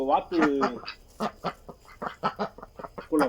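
Ducks quack in quick, nasal bursts close by, several calls overlapping in an uneven stream, from a pair of ducks kept at a farm pond tank.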